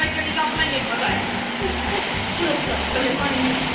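Steady heavy rain pouring with a dense hiss, gusty wind adding rushing surges throughout, loud and close.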